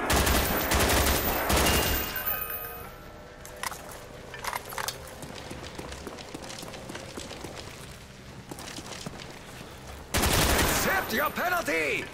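Gunfire rings out in the Der Riese zombies map of Black Ops, with loud bursts of rapid shots at the start and end and lighter scattered shots in between, under some game voice.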